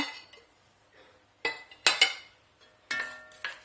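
Metal utensil scraping and clinking against a pot while chicken and vegetables are stirred, a few sharp clattering bursts separated by quiet pauses.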